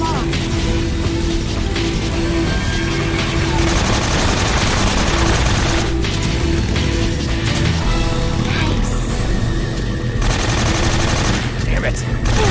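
Gunfire in Metal Gear Solid 3, aimed at a log, rattles in rapid bursts and sustained volleys over a busy game soundscape with a steady tone, loud throughout, with people talking intermittently.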